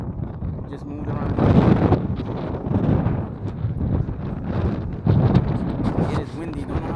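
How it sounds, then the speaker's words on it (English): Heavy wind buffets the built-in microphone of an Akaso V50X action camera outdoors in Brooklyn on a cold December day, a loud continuous rumbling roar that swells in gusts. "So this is with the wind blowing"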